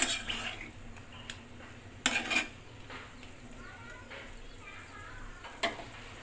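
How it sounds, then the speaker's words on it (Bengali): A spoon stirs chicken kosha, made with sour curd, into its gravy in a pot, giving soft scrapes and a few sharp metal clinks over a quiet background hiss. "ঝোলের সাথে একটু মিশিয়ে দেবো, এরকম নাড়াচাড়া করে দেবো"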